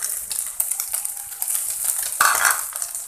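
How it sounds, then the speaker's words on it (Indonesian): Eggs and meatballs frying together in a pan for a home-style nasi gila, a close, steady sizzle with light scraping and stirring throughout. "sambil kita menggoreng telurnya ini, sambil kita masukin nih bakso"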